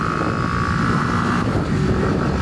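A 2006 Kawasaki Ninja 250 motorcycle engine drones steadily while downshifting, with a brief dip in the tone midway, steady wind rush over the microphone and no talking.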